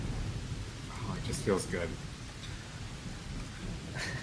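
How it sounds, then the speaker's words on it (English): Steady rain with low rumbling thunder in the Tales of Terramir tabletop role-playing campaign, a constant wash of rainfall filling the background while people talk over it. "Is everybody standing out in the rain?"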